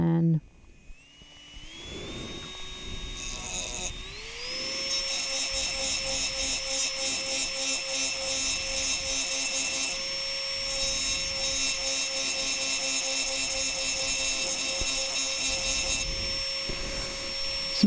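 A rotary drill with a spur bit engraving glass whines at a high pitch, its tone stepping up as it speeds, then holding a steady buzzing grind over a long stretch.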